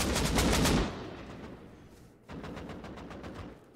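Gunfire in the survival video game Rust: a rapid automatic burst up close, a short lull, then a second, quieter stream of rattling shots, with no talking over it.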